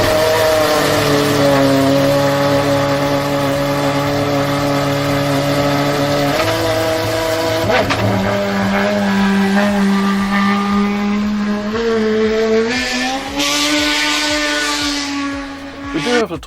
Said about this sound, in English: you'd hit the start button on the steering wheel and hear all that almighty noise, which we're going to listen to again right this second